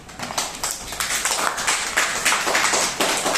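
A classroom of young students claps for a classmate in a Telugu poetry lesson, a dense burst of many overlapping hand claps held steadily for a few seconds without talk.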